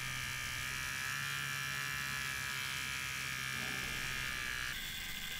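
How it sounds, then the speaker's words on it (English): An electric razor buzzes continuously against a bolt, its vibration working a nut along the thread, a steady close hum with a slight shift in tone near the end. "You have to orient the razor in a different direction to make the nut come downwards"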